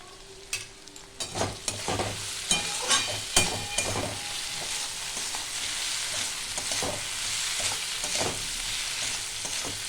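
Ground cumin, coriander and chili powder frying in a pan are stirred with sharp scraping strokes, bunched in the first few seconds, over a steady close sizzle.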